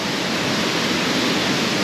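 Triberg waterfall in Germany, a dense, steady roar of falling water, loud and unbroken for the whole moment.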